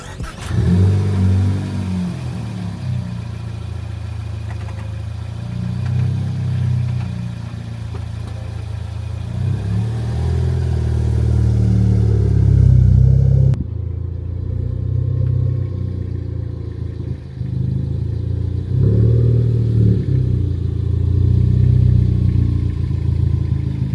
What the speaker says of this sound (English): I'm gonna turn the car around so we can see better.